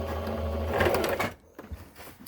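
A sewing machine stitches fabric for a Regency reticule in a short, close, steady burst that stops partway through, leaving faint handling sounds.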